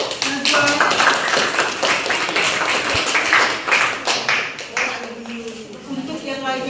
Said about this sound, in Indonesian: Tepuk tangan untuk kelompok Najwa.